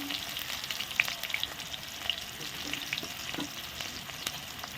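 Chicken skin frying with onion and spices in a pan, a steady close sizzle with soft stirring scrapes and small pops throughout, no voices.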